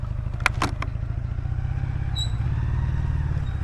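An old motorcycle with a 40-year-old engine and a standard crankshaft, back on the road after sitting unused for a long time, runs at a steady low putter. A few sharp mechanical clatters sound early, then a slightly louder, even drone.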